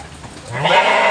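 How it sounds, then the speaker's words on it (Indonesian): Sheep and goats kept on a small livestock farm, with a bleating call rising near the end over general barn noise, fairly loud and close. "Ini di sini berisi domba, kambing."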